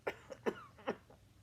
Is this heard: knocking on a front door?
no